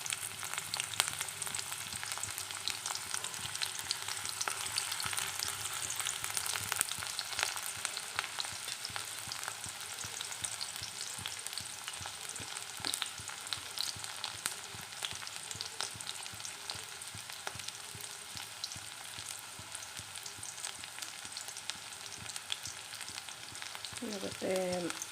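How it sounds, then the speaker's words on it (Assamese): Chopped onions sizzle steadily in hot oil in a pan for a vegetable fry of drumstick flowers, a dense continuous crackle with faint stirring scrapes near the end. "পিঁয়াজখিনি দি দিছোঁ।"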